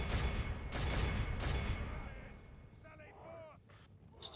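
An army fires in a Lord of the Rings strategy game battle against Mordor: dense, booming volleys of gunfire and artillery rumble at first, then thin out into scattered shots and clanks.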